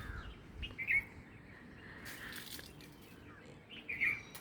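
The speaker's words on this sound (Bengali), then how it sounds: "পাখির ডাকটাও আপনারা মাঝে মাঝে শুনুন" A couple of short, bright bird chirps ring out at the start and end from an orange-flowered tree crowded with birds, over quiet outdoor ambience.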